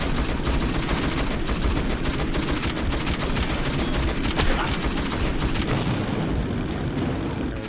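Rapid machine gun fire in the video game Metro 2033 crackles in a dense, continuous burst of sharp shots, loud and close, with the rattling pace holding steady before thinning out near the end.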